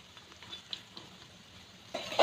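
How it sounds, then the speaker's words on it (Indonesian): Shrimp balls frying in hot oil, a continuous soft sizzle with small crackles and pops, growing louder near the end, close and without talk. "Terus kita goreng sampai warnanya berubah kuning kecoklatan."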